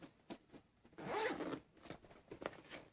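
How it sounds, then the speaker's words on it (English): A zipper slides open along a leather-like bag with a handle, one quick rasping pull heard close and quiet, with small handling noises on either side. "I'm going to unzip it."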